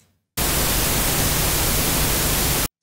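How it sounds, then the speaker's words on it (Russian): Steady broadband pink noise played back from a music production session in FL Studio, a constant loud hiss that starts abruptly, holds evenly and cuts off cleanly, with nothing else audible. "Включаем также розовый шум."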